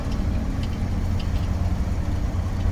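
A 1997 International 4900 tool truck with its engine running, a steady low rumble from inside the cab, fairly loud and unbroken, with no talk.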